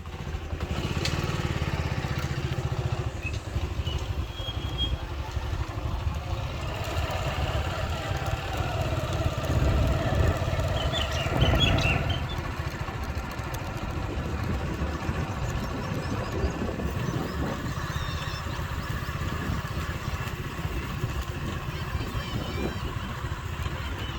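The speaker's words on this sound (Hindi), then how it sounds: "हम सीधा फसलों में से लेके जा रहे हैं मोटरसाइकिल दरिया की तरफ" A motorcycle rides through crop fields toward the River Ravi in a Pakistani village, its engine giving a steady, close, continuous drone that swells slightly midway.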